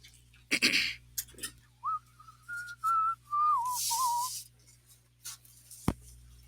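A man whistles a short, wavering melody of a few sustained notes from a song, close and fairly soft, between breaths and small handling noises.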